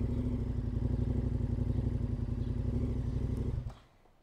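A KTM 1290 Adventure motorcycle idles loudly with its exhaust baffle removed, a deep, throbbing, close-up rumble that runs steadily for several seconds and then cuts off abruptly.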